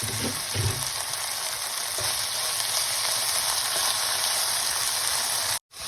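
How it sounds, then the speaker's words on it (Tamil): Coriander leaves sauté over a low flame for chutney, made from home-grown coriander. A steady, close sizzle of frying runs throughout, with a few stirring knocks near the start, before cutting off abruptly at the end. "மல்லியிலையை போட்டால் தான் இந்த சாதுவாக வதங்க வேணும். என்றால் பச்சையாக அதுக்காக இப்படி சாதுவாக ஒரு லோ ஃப்ளேமில் நாங்கள் விட வேணும்."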